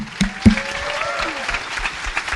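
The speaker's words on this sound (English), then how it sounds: "I want to give another round of applause to Muslim Tech Fest." Audience applause breaks out at a tech panel during Muslim Tech Fest 2024, a brief crowd clatter with a couple of sharp claps near the start, a voice sounding faintly through it.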